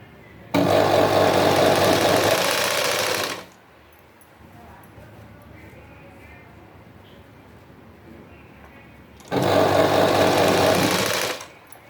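Sewing machine stitching a blouse without canvas: two loud, close bursts of rapid mechanical whirring, each about three seconds long, separated by a quiet pause.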